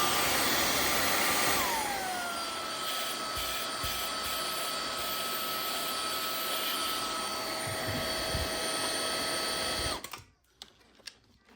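A Mova J20 cordless handheld vacuum on maximum mode whines loudly and steadily, its motor pitch dropping slightly early on, then cutting off abruptly near the end.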